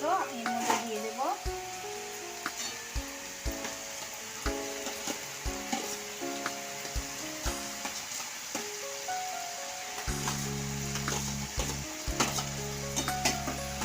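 Fried potatoes are stirred into a sizzling fish-head and cabbage curry in a pan, with a steady hiss of frying beneath repeated close scrapes and knocks of a spoon against the pot, and a voice talks at times.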